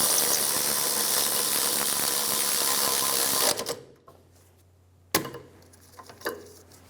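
A tool tightens bracket bolts on the rear wheel bearing and hub assembly of a 2003-2007 Infiniti G35. It makes a loud, steady whirring for about three and a half seconds, then stops abruptly, followed by a sharp clank and a few faint knocks.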